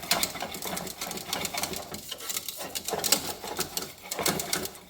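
Whisking mashed potatoes in a bowl for stretchy cheese, a rapid, steady scraping and clicking of the whisk against the bowl, close and continuous with small pauses.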